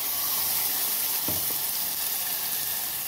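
Masala spices with onion, turmeric and garam masala sizzle in a frying pan, a constant hiss with one brief scrape of a stirring spoon in the middle; no voices.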